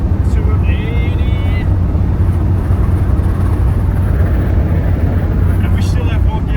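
707 hp Dodge Ram TRX truck redlined in seventh gear near 280 km/h on the German autobahn, a loud constant engine roar mixed with heavy wind and road noise heard from inside the cab.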